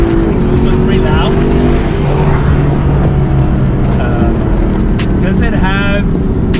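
A Mercedes-Benz SLS AMG accelerating from about 50 mph with a loud exhaust, a steady engine roar building under wind noise while a person talks over it.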